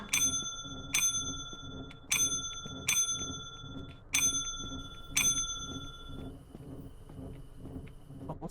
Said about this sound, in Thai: ใครมึงกดกระดิ่งวะ